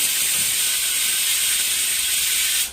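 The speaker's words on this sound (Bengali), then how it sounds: "ওই ছোলাটা সিটি পড়ছে" A pressure cooker cooking chickpeas on a home stove lets out a steady, loud, high hissing whistle that holds for the whole stretch and cuts off at the end.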